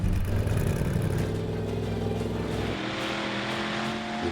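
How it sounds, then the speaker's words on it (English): Loud modified car engines from the film Mad Max: Fury Road roar and rev, a dense rumbling drone with rising and falling pitch, close by and continuous throughout. "The sound of these engines. Ooh. It's like an aircraft kicking into life."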